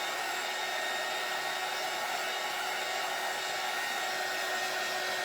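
A hair dryer blows steadily on a painted Christmas door hanger, a loud, close, unbroken high-pitched whoosh lasting the whole stretch with no voices.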